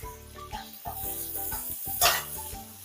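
Ginger, onion and green chillies sizzle steadily in hot oil in a home kitchen pan while cooking spicy chicken lollipop, a continuous frying hiss with a brief louder burst, set against background music.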